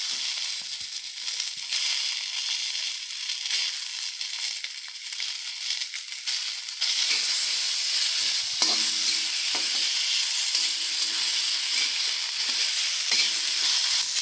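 Tomatoes dropped into a hot frying pan with ginger-garlic, cumin and coriander paste, giving a loud, dense, continuous sizzle that intensifies partway through, with occasional spatula scrapes, close and with no voices.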